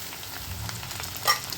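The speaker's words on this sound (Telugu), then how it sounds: "మళ్ళీ ఒకసారి క్యాప్సికం వేశాక ఇలా కలియబెట్టండి ఆయిల్ అంతా పట్టాలి" Capsicum being stir-fried in oil with half-boiled beetroot and carrot, a soft, steady sizzle close by with a brief louder scrape of stirring near the end.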